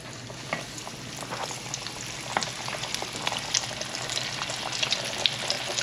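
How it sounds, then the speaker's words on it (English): Oxtail frying in hot grease, a loud, dense, continuous sizzle and crackle with scattered pops throughout. "So, we're going to take our oxtail and we are going to put it in the grease."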